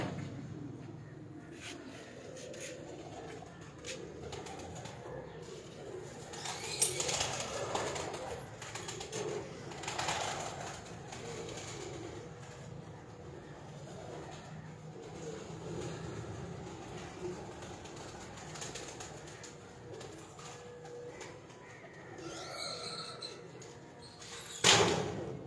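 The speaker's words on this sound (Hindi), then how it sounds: "ये जी मेरे 10 स्टार कबूतर हैं" Pigeons kept in a loft coo softly at a distance against a constant hiss of outdoor background noise. Faint scattered clatter and rustling run throughout.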